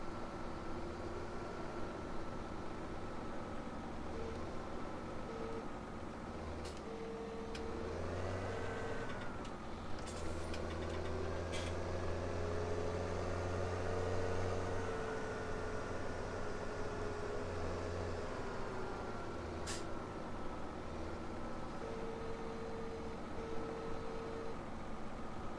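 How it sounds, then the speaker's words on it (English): A tractor engine drones steadily in Farming Simulator 17 while bales are being loaded, a continuous low rumble whose pitch swells and dips as it works, with no talk over it. "Nice tractor this."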